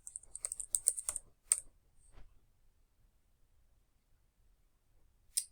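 Typing on a computer keyboard: a quick run of crisp key clicks, then a pause, a few more taps, and one last burst after a long quiet gap, close and clear with no talking.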